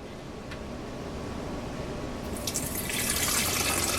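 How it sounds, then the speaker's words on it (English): Water pours steadily into an iced tea maker, a soft continuous splashing that grows brighter and louder toward the end. "So I'm going to go ahead and pour the water in here."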